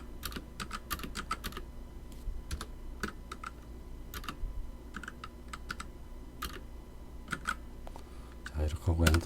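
Quick, uneven tapping of number keys on a computer keyboard followed by a final Enter press, close and fairly crisp over a faint steady hum, with a voice briefly audible.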